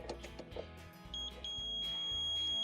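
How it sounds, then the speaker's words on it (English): A multimeter set to audible continuity beeps while its probes touch both terminals of a Frigidaire dishwasher heating element, giving a short pair of clear tones followed by a steady sustained beep over faint handling noise. "I'm going to set my meter on an audible tone, so if it has continuity, you'll hear a noise."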